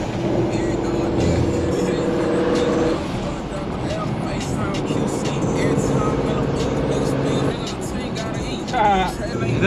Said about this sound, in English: You can hear the turbo noise. so loud.